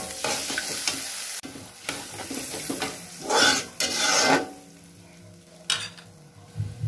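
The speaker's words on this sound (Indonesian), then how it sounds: "Kita tambah airnya, kita aduk-aduk dulu." A cooked Indonesian spice paste with lemongrass, thinned with added water, is stirred in a pan, producing close, rough scraping and rasping strokes over a steady sizzle, with louder bursts partway through and no voices.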